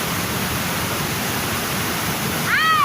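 Tagbibinta Falls pouring as a steady, dense roar of cascading water, close and continuous, with a brief high-pitched chirp or call near the end.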